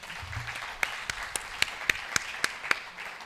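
A small audience at a university system launch claps by hand, a few scattered sharp claps ringing out one by one in an irregular rhythm over quiet room noise.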